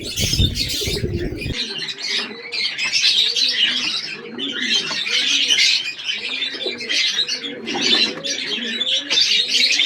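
Pet pigeons drinking water coo in soft, repeated rolling calls mixed with chirps and occasional wing flutters, steady and close for the whole stretch, with a brief rustle at the start and no talking.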